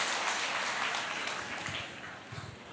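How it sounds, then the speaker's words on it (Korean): Audience applause and cheering at a business seminar, a steady broadband wash of clapping and shouts filling the hall, moderately loud and continuous with no talk over it. "여러분들 함성이 좀 달라진 것 같아요"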